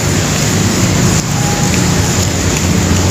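Steady rain pours down in a dense, even hiss with no voices, constant and close around the listener, heard while riding a motorcycle.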